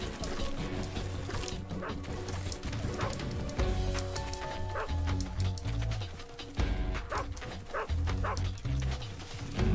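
Dogs in the video game Metal Gear Solid 3: Snake Eater bark and yelp repeatedly in quick, uneven bursts, close and loud amid busy game sounds and music throughout.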